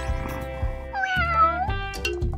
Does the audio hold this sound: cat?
yes